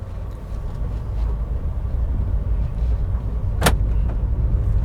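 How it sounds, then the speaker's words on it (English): Automatic door locks engage in a Nissan Micra CVT as it pulls away, giving one sharp clunk over a steady low engine and road rumble inside the cabin, with a fainter click soon after. "That's the auto closing door locks."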